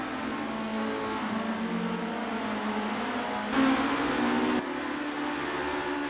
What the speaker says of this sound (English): Roel Postma's engine is churning to get past Hugh Jass.